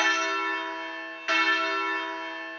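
A single church bell, the sixth, struck twice in a Stedman Doubles practice, each ring loud with a long harmonic hum that decays slowly; no talking.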